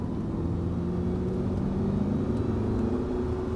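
Audi R8 engine droning steadily at a constant level on the Paul Armagnac race circuit, a continuous low rumble with a faint rise through the clip, no voices.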